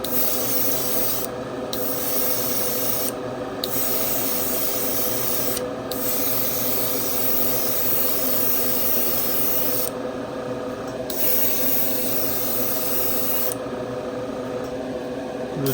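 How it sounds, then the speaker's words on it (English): Long hissing bursts of a spray can painting a 1956 Chevy Gasser, held steady with a few brief pauses between sprays, close and continuous. "I'm going to try to spray it right out of the bottle."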